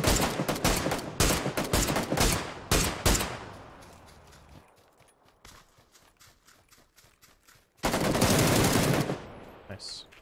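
Bursts of rapid gunfire in the video game PUBG, a quick run of sharp shots at first, then sparse scattered shots, and another dense burst near the end, all fairly close.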